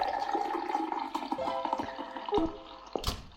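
Water poured into a flask in the Monster Room 2 escape puzzle game gives a steady, moderately loud trickling pour that runs for a few seconds, ending in a few brief splashy drips, with no talking.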